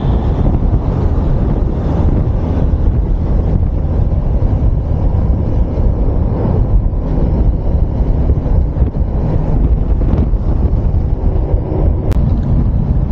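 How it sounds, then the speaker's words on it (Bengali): Strong mountain wind buffeting a riding motorbike after a tunnel near Narkanda, Shimla, a loud, constant roar of wind noise over the microphone, unbroken and close throughout. "এত বাতাস হচ্ছে, বাইক চালানোই যাচ্ছে না।"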